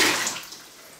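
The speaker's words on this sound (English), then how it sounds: "take a closer look at what it's like to drop it into water again" An iPhone 6s in a Lifeproof battery case drops into water, giving a brief splash and wash of water that fades away within a second.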